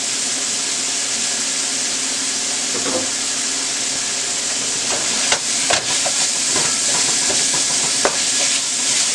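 Garlic hits a hot pan and sizzles steadily, a loud bright hiss throughout with occasional clicks and scrapes of stirring, no talking.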